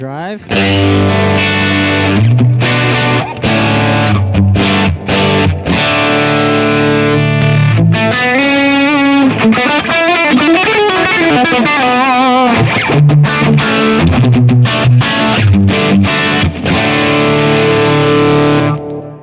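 Overdriven electric guitar with a gritty, saturated tone, playing sustained chords and bending lead lines, loud and continuous without any voices.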